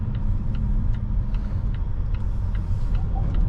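A 2025 Volvo S90 B6 AWD Ultra driving, with a low steady road and engine rumble from inside the cabin and faint tire noise, no talking.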